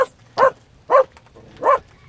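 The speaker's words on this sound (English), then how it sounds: "I'm sorry if my dog is noisy." A dog barks four times in evenly spaced single woofs, fairly loud and close, outdoors at a homeless camp on Halloween night, with no talk over the barks.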